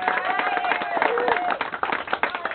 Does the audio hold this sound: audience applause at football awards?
yes